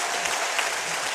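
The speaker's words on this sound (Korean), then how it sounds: "총장님 박수 한번 해주세요" Dense applause from an audience at a company success seminar, a steady wash of many hands clapping that stays loud and even for a short burst with no voices over it.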